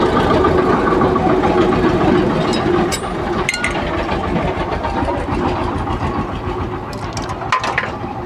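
A Bajaj Discover motorcycle engine with a broken, jamming roller runs loud and close, a steady rough mechanical drone with a few sharp knocks near the middle and end.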